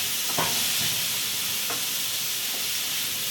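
Chopped onions and large tomatoes sauté in a pan of oil. A continuous bright sizzle and hiss fills the sound, broken by a few soft scraping stirs, close and steady.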